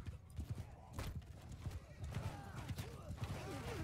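Hooves thud in a steady, quick rhythm in Bannerlord Online PvP, mixed with horse whinnies and muffled battle noise, while players talk faintly underneath.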